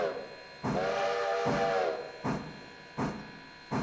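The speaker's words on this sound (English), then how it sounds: "You can also do the whistle from in here." A steam locomotive whistle sounds from inside the cab in the Railroader game, one sustained tonal blast of about a second amid rhythmic chuffing bursts, heard close and moderately loud.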